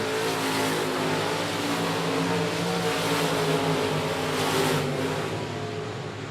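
Race car engines roar steadily as cars complete a lap at I-37 Speedway, a continuous loud droning with engine harmonics rising and falling as the cars pass.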